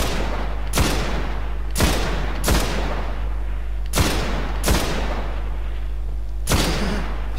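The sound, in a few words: gunfire in the video game Destiny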